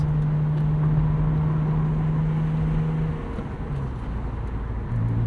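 A 1999 BMW M Roadster engine drones steadily while driving, a low even hum with road and wind noise that dips briefly as the load changes, then picks back up.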